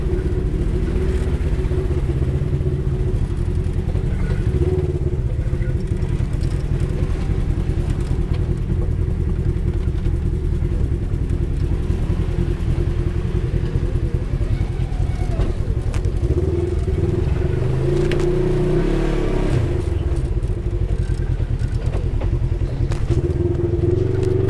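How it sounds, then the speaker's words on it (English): Four-seat side-by-side off-road vehicles grinding through a multi-point turnaround on a soggy Walker Valley trail at Dan's Corner, giving a continuous near engine rumble with slight rises and dips in revs and faint voices underneath. "Some of these four-seat machines are going to have to do a six-point turnaround."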